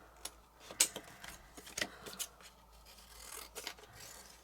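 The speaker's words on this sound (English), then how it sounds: "I have no idea where my other scissors are, so just going to roughly cut it out for now." Scissors roughly cut paper for a coaster gift box, producing quiet, close snips and crisp crunches in an uneven series of sharp clicks with soft paper rustling between.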